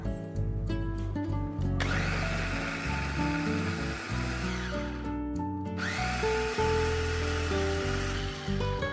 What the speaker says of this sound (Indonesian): ini kita haluskan hingga halus